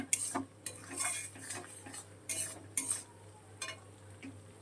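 Chicken being stirred in a frying pan, a spatula scraping and clinking against metal in quick repeated strokes over a faint sizzle, close and fairly quiet.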